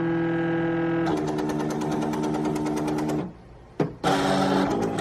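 A sticker cutting machine runs through its cutting process, giving a steady, loud mechanical whir with rapid repetitive pulsing, then a brief pause and a short jolt before the motor resumes.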